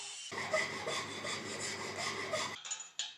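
A cutter on a lathe bores out a hole in metal to 15.88 mm for a chisel-sharpening jig, making a continuous gritty scraping for about two seconds, followed by a few lighter scrapes and taps.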